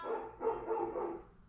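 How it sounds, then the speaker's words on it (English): A dog barks and yips several times in quick succession, fairly close and moderately loud, with no other sounds. "Oh, that's my dog."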